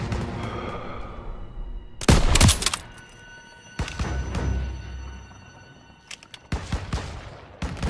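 Rifle and machine-gun fire in a World War II shooter game: sharp, loud bursts and single shots break out in clusters against a rumbling battle backdrop, with brief quieter gaps between volleys.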